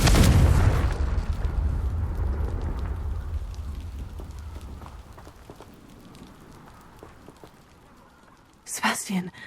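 Incendio and Confringo spells in Hogwarts Legacy fire off as a loud initial blast with a long rumbling, crackling fiery tail that fades over several seconds, followed by a short burst near the end; voices are heard in the background.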